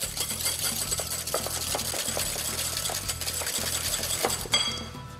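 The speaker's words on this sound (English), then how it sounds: "Now give that a really nice whisk" Two egg yolks being whisked hard in a bowl, a fast, steady metallic clatter of the whisk against the bowl that runs continuously and close, with a low background hum beneath.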